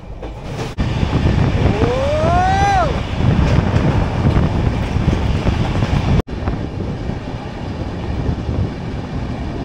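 A train travelling toward NJP, a steady loud rumble of wheels and carriage noise with wind buffeting the microphone, a rising-and-falling horn-like tone early on, and a sharp break near the end.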